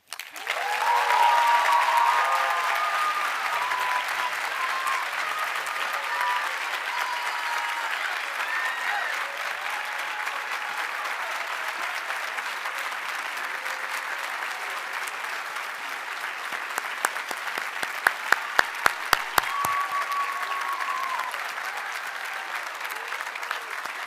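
An audience at a Cushing Academy commencement ceremony applauds in sustained, dense clapping that carries on for over twenty seconds, with scattered cheers and a few sharp louder claps near the end.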